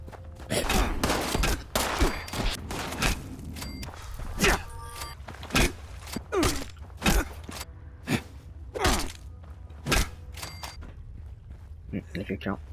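Gunfire in the video game Fallout 76: a steady run of sharp shots and bursts across the clip, some loud and close, over a constant low hum with someone talking in between.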